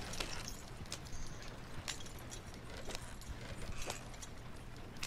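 Horse hooves clip-clop at a steady riding pace in the Red Dead Redemption open world, a continuous quiet patter layered over a dense ambient game soundscape, with no voices.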